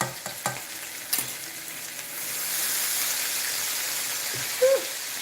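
Minced garlic frying in bacon grease gets a few sharp stirs, followed by a soft, steady sizzle that builds and holds, close by and with no talking.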